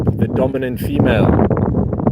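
Strong wind on a hot, windy late afternoon buffets the microphone with a steady low rumble under someone talking close by.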